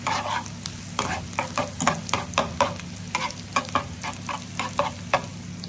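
Ginger and garlic frying in olive oil, a steady close sizzle broken by a regular rhythm of spatula strokes stirring against the pan, no talk.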